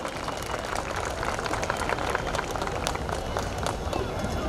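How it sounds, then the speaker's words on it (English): Dense, steady clapping from an audience at a primary school annual day, a broad even patter of many hands lasting a few seconds with no break. "Give a big round of applause for Chandraleela Kennedy ma'am."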